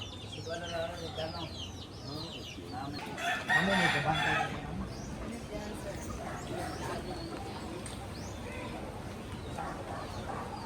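Chickens in a coop under an old heritage house cluck and crow at a middle distance, with one louder burst early on, while people talk over them.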